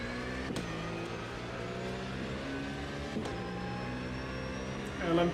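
An LMP2 prototype race car in the Automobilista 2 racing game, IMSA Daytona, passing traffic with a steady high engine whine and shifting tones, a couple of brief thumps and a rising roar at the end.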